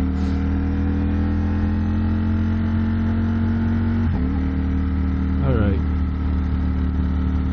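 A 2021 Ducati Streetfighter motorcycle engine hums steadily up close as the rider shifts gears lazily, with brief dips in tone at each shift and a short spoken word over the engine.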